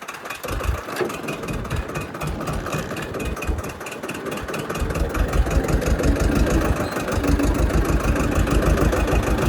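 A farm tractor's diesel engine runs steadily with a continuous low rumble and rattle, holding close and loud throughout and rising a little in strength about halfway through.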